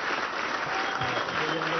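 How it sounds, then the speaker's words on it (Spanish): An audience applauds at a gathering with transport workers and a graduation ceremony, a short burst of dense clapping at even volume with a voice faintly present underneath. "vamos a dar un aplauso a Jesús Martínez"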